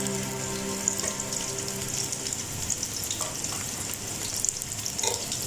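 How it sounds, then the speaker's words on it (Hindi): Onion frying lightly in a pan for Pakistani-style pyaaz karele, a continuous close crackling sizzle with scattered pops, no talking over it. "प्याज को हल्का सा हम फ्राई करेंगे।"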